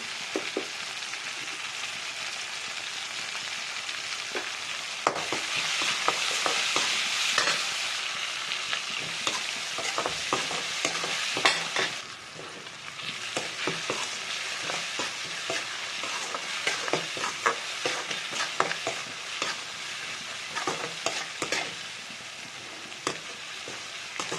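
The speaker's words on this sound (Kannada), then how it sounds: "ಟೊಮೊಟೊ ಎಲ್ಲ ಸ್ವಲ್ಪ ಸಾಫ್ಟಾಗಿ ಬೇಯಲಿ ಅಷ್ಟೇ ತನಕ ಫ್ರೈ ಮಾಡೋಣ" Tomatoes and poha masala fry in a pan with turmeric, giving a continuous close sizzle broken by frequent scraping, stirring clicks, and a brief louder surge early on.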